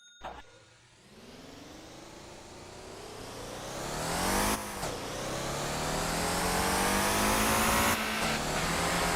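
A V12 car engine in the Motor Town: Behind the Wheel video game revs up in a rising whine, dropping briefly at two gear shifts before climbing again, loud and alone.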